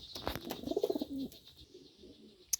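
A golden pigeon in a loft gives a short burst of rolling coos, close and fairly quiet, followed by softer murmurs and a sharp click at the end.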